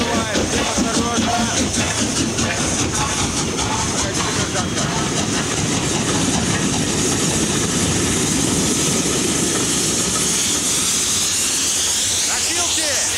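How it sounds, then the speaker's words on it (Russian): A train rumbles in to a station platform with a heavy, continuous roar and rhythmic mechanical clatter, loud and close, while voices speak over it. "Поезд прибывает! Все осторожно!"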